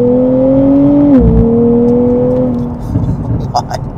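A 2024 Nissan Z Nismo sports car pulls away in first gear, its engine giving a loud, close, steady drone whose pitch dips briefly partway through before settling again.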